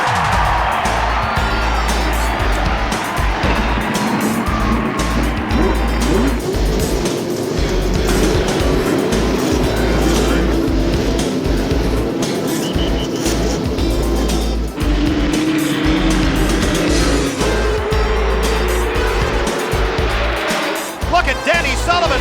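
Indianapolis 500 race cars from the 1980s starting and racing, a loud continuous engine roar with passing whines and crowd noise, heard under a commentator's voice.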